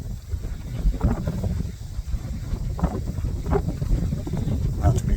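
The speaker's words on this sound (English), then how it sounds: "But it's so windy" Steady wind buffets the microphone with low rumbling gusts throughout, constant and close, with faint outdoor noise mixed in, on a hiking trail at Glacial Lakes State Park, Minnesota.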